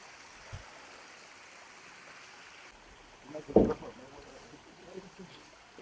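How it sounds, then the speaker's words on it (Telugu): A mountain stream flows out of the hills on the Ahobilam trek in Andhra Pradesh, a soft, continuous trickle with one brief, louder splash partway through. "వాటర్ ఫ్లో అనమాట."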